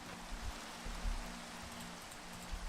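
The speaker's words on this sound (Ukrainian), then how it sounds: "Видите, дощ паде." Rain falls steadily outdoors in a village, a continuous soft hiss of drops with faint low rumbles and no speech.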